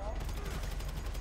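Gunfire in GTA V Online during a heist mission comes as dense, rapid bursts over a busy, continuous game soundscape.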